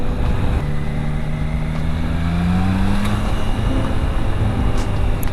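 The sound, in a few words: Triumph Tiger Sport 660 motorcycle engine during quick overtakes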